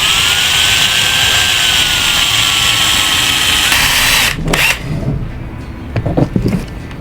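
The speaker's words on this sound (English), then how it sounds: "drill a hole and" A power drill bores a hole into a Bug-A-Salt V3 Black Fly Edition salt gun to fit a folding stock adapter. It whines loudly and steadily for about four seconds, then stops and gives way to quieter handling clatter.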